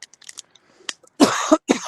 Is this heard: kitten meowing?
no